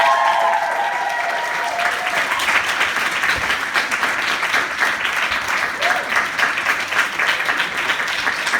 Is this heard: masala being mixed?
no